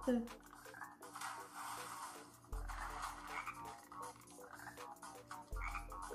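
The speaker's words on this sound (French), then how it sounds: "Le grenouille que vous avez entendu là," Repeated cartoonish frog croaks from the PSP video game Invizimals, spaced every few seconds over looping background music.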